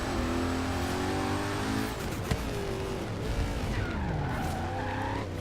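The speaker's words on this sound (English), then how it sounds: "it's a bit of a slidey car." Car sliding sideways in the video game Forza Horizon 3, a loud continuous engine drone with screeching tires skidding throughout and revs dipping midway, close and steady, with no voices.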